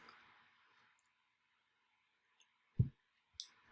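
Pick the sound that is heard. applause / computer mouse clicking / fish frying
computer mouse clicking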